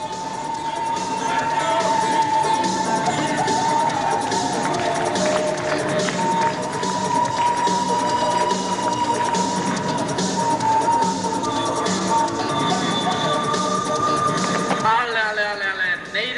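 Audience at an artistic and magic show in Žatec applauding and cheering, a dense, steady wash of clapping and crowd noise under music-like tones, with an announcer talking over it.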